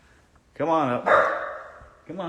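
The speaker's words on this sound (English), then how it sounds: "You don't have to bark at him." A pet dog gives a drawn-out, whining bark-howl at close range, then starts a second bark near the end, and someone speaks briefly just before it.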